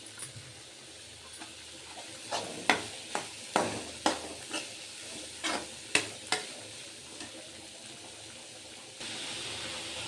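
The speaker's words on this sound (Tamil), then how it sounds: "வதக்கிட்டு ஒரு 2 நிமிஷம் ஆகட்டும். நல்லா எண்ணெயிலே ஃப்ரை ஆகட்டும்." Beetroot sautéed in hot oil crackles and sizzles softly while a spoon scrapes and stirs the pan, irregular clanks and taps standing out over the low frying hiss, close and quiet.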